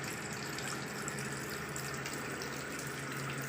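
Steady, continuous rush of dirty water pouring from a tap at a COVID care centre in Panisagar, close and unbroken throughout with no pauses or talking.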